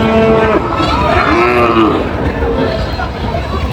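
Sahiwal bulls at a busy cattle market in Dinajpur let out close, drawn-out lowing moos over a background of crowd chatter and nearby talk.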